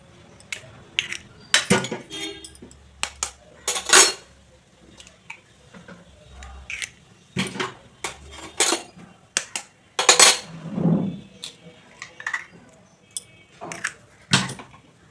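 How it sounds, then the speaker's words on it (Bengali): Three eggs are cracked one after another into oiled bowls, giving a scattered series of sharp taps, clicks and glassy clinks against the bowl rims, with quiet pauses between the strikes. "3টে ডিম আমি ভালো করে ফাটিয়ে নেব।"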